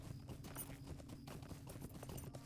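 Rapid, faint hooves of a horse in Lord of the Rings Online clip-clop in a steady trotting rhythm over a low background hum.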